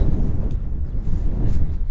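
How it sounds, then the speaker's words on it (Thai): Strong wind buffets a microphone outdoors while mussels are being gathered: a loud, continuous low rumble with gusty surges fills the whole stretch, with no talking. "ลมแรงสักหน่อยนึง"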